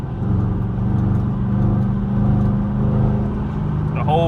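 Camaro SS V8 engine running in a low steady growl as the throttle is lightly nudged, a rumbling drone that rises slightly without a hard rev, heard from inside the car.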